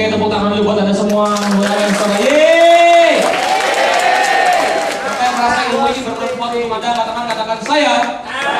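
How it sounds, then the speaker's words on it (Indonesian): An audience applauds at an Indonesian motivational seminar, a steady wash of clapping throughout with a loud, tonal voice or music over it. "Oke, tepuk tangan dulu buat Anda semua."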